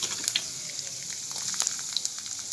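Hot oil sizzles in a wok as green chillies fry for chicken biryani, a steady, close crackle with small pops and no talking.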